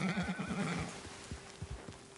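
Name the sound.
horse neighing in video game Red Dead Redemption 2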